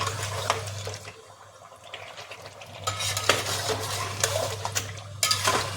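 Ground tomato-onion paste is stirred into a chicken and potato curry, giving wet scraping and spoon clatter against the pot over a low kitchen background, with no talking.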